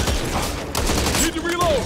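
Submachine gun fire in the zombie shooter Back 4 Blood, heard as dense, rapid bursts mixed with game effects and a voice talking over the shooting.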